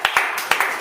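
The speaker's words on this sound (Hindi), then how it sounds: "आपको अलग से बोलना पड़ेगा ताली बजाने के लिए" Short bursts of hand clapping from an audience at a workplace safety induction, a few quick claps in two small clusters, close and fairly loud.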